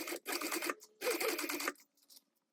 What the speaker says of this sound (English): we are going to sew these together using a 1/4 inch seam allowance